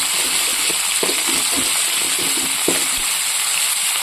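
Whole five-spice seeds and dried red chillies fry in hot oil in a wok, giving a dense continuous sizzle with scattered soft pops and stirring taps.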